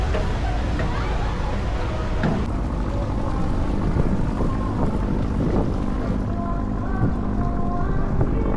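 Ferry boat crossing the strait toward Banyuwangi's Ketapang harbor, a steady loud engine drone and rumble with wind buffeting the microphone throughout, occasional faint voices in the background.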